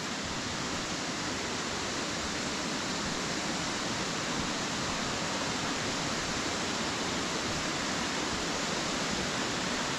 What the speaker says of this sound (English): Right, here we are at the waterfall. Let's see how good it is. Well, it looks like it's running quite fast.